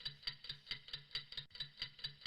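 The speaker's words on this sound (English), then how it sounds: "You have your timer that sounds like this." A game show countdown timer ticks steadily, about five even, sharp clicks per second at a quiet level, alone with no voices.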